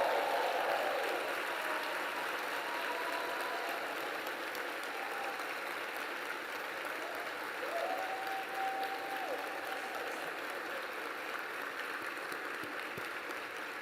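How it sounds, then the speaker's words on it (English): Sustained applause from a large audience at an Urban League conference plenary honoring Youth Summit participants, a steady, dense wash of clapping that continues evenly for the whole stretch, with a faint tone audible partway through. "give this next generation of leadership a strong shout, a strong applause"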